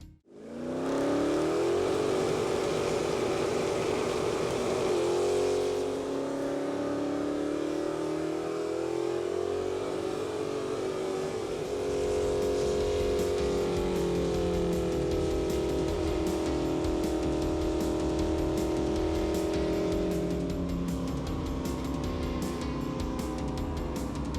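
A powerful hot rod engine roars and revs hard, climbing in pitch through gear changes and holding a loud, continuous howl close by for over twenty seconds.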